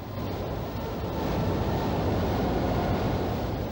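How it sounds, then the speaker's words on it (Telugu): Sea waves wash in a steady, even surf roar, moderately loud and unbroken, with a faint windy rush and no voices. "అలలు వెనక్కే వెళ్తున్నాయి"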